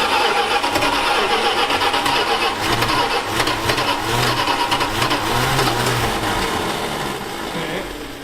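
A Dodge Diplomat V8 fitted with a new Edelbrock 1406 carburetor cranks steadily, the starter churning in a rhythmic pulse close by and loud, then tapering off without clearly catching.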